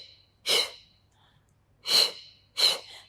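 Three sharp, forceful breaths taken through the nose during a Pilates hamstring pull on the mat, close and breathy with quiet gaps between them, the last two closer together.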